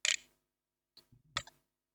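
A few sharp clicks from a manual keyboard, spaced apart with quiet gaps between them, as keys are pressed one at a time on a nearby desk.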